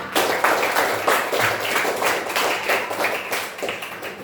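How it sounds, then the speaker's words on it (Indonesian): Schoolchildren in a classroom clapping their hands together in applause during a science lesson, a brisk, uneven burst of many close hand claps that continues throughout, fairly loud and alone. "beri tepuk tangan untuk kita semua"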